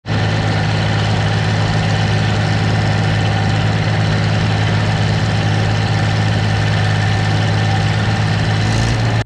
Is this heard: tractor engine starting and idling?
yes